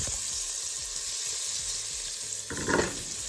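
Onions and garlic sizzling in oil over medium heat for a coconut curry chicken soup, a steady crackling fry that swells briefly near the end as the pan is stirred, with no talk.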